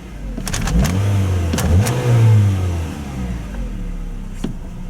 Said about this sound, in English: But I'll go ahead and rev it here.